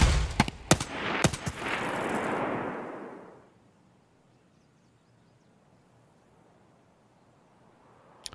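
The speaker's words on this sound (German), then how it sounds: "Noch ein Schuss. Noch ein Kill." A rapid burst of gunfire in Escape from Tarkov cracks out, several sharp shots followed by a fading boom, then near silence with one faint click at the end.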